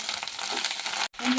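Fish curry sizzles and fries in a pan as it is stirred carefully, a steady close crackle that cuts off for a moment near the end and then comes back.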